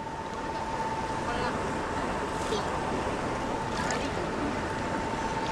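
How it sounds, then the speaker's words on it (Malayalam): A motor running near a house: a constant mechanical drone with a steady whining tone, moderately close and unchanging, with faint outdoor noise around it. "വീടിന് അടുത്തുള്ളൊരു മോട്ടോർ തന്നെ കേട്ടോ."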